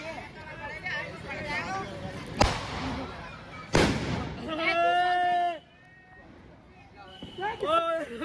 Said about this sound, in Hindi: क्यों फोड़ रहे हैं स्काई शॉट वगैरह यार तुम?